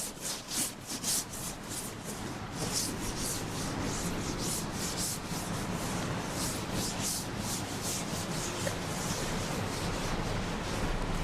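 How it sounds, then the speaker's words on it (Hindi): A duster rubbing chalk off a classroom board, heard as a steady, loud, rhythmic back-and-forth scrubbing, close and continuous with no talking. "लेट मी क्विकली रब द बोर्ड"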